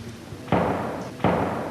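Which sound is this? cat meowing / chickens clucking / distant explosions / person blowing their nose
distant explosions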